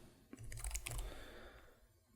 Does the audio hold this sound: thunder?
no